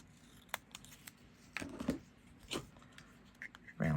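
Scissors trim the edge of a small paper stamp sticker on a scrap of cardstock: a handful of quiet, crisp snips scattered over a few seconds, close to the microphone, with faint paper rustling and no talking.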